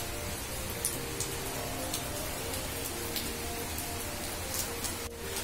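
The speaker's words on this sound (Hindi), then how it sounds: "ये बारिश पड़नी फिर से शुरू हो गई" Steady rain falls outdoors, an even, close hiss of drops with occasional louder patters on surfaces, continuous throughout.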